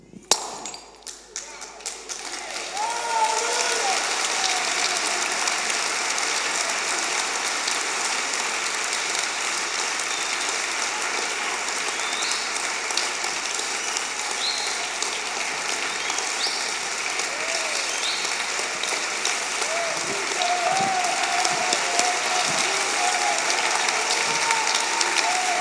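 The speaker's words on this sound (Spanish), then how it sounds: "Dale un fuerte aplauso al Señor." A church congregation applauds in a long, dense, rattling wave that follows a brief thump and keeps a steady, full level for over twenty seconds.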